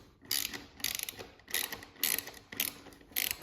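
A 10mm ratcheting wrench works a taillight bolt on a 2021+ Aprilia RS 660 or Tuono 660, giving six quick bursts of close metallic ratchet clicks in steady rhythm.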